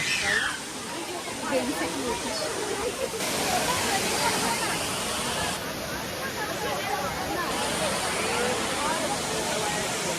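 A steady, roaring rush of falling water, loud and continuous throughout, with faint crowd voices blending into the background.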